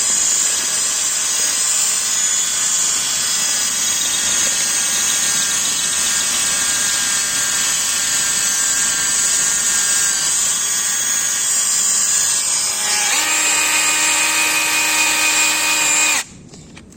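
An Aldi Ferrex SDS drill in drill mode whines steadily at high pitch for about sixteen seconds, its tone shifting near the end before cutting off abruptly.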